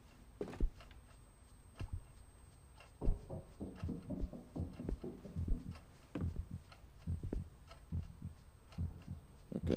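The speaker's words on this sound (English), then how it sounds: "Okay, that's our heartbeat." Heartbeat effect in the horror video game Song of Horror, soft irregular thumps under dark ambient game sound with scattered creaks and clicks.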